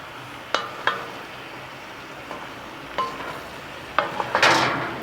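Mushrooms cooking down in a pan, with a faint steady sizzle broken by a few sharp clinks of a utensil against the pan and one louder stretch of frying noise near the end.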